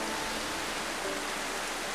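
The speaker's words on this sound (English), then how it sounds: "Oh, the rain's so atmospheric." Steady rain in The Final Station video game, a continuous broadband hiss with no distinct drops, even and unbroken throughout.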